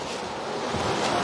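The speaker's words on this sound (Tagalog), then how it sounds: "Lakas kasi ng hangin eh." Strong, steady wind buffeting the microphone, a broad continuous roar that swells slightly toward the end, with no voices.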